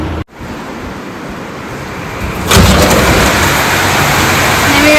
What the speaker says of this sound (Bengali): নেমে গেছে বৃষ্টি, রিকন আসেনি এখনো।